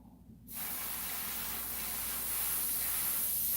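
A steady hiss of spray paint on a tank build starts after a brief pause and continues without a break, loud and close.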